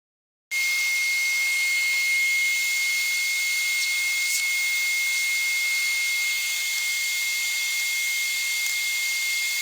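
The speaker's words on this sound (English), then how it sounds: "Just going to put a little bit of super clean degreaser and cleaner." Super Clean degreaser and cleaner sprayed from an aerosol onto an electric motor winding, a steady close hiss running almost unbroken for about nine seconds with a faint tonal whine above it.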